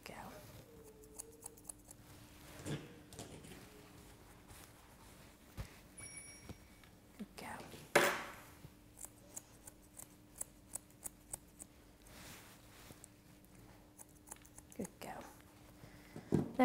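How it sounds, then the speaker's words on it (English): Thinning scissors snip at a Labradoodle's face fur around the eyes during a grooming session, a series of quiet, crisp close-up clicks and snips spread unevenly over a soft background hush. "So just using your thinning scissors, just take the corners of that out the front of her eyes."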